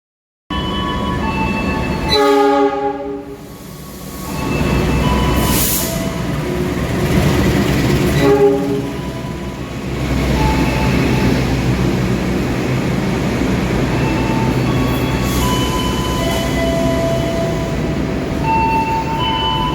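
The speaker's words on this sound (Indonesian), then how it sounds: "Yang telah masuk di jalur 3 adalah kereta api Mutiara Selatan nomor 72." The Mutiara Selatan passenger train rumbles into an Indonesian station on track 3, its horn sounding loudly near the start, followed by a long steady roll of wheels and carriages.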